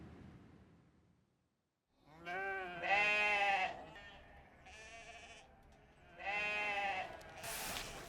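Sheep on a Ningxia farm bleat loudly and close by, in two bursts of overlapping calls, with quieter farmyard background between them.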